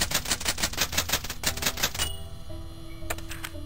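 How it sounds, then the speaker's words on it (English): A typewriter in the horror video game Cultic clatters through a fast run of sharp keystrikes for about two seconds, then stops with a ding and a carriage-return sound. "Another typewriter. Let's see what the next message is."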